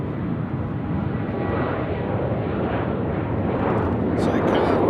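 A Southwest Airlines jet at Nashville International Airport, a loud sustained broadband roar with a deep rumbling low end that builds slightly over a few seconds, heard from a distance outdoors.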